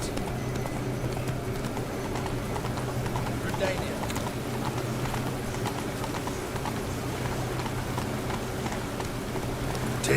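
The horse Roach gallops in a video game, a steady run of rapid hoofbeats heard close throughout, with a person talking over the top.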